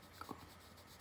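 Polychromos coloured pencil colouring on paper, faint close scratchy strokes in a few quick short bursts.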